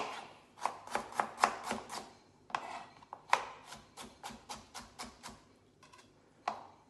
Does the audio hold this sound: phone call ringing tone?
no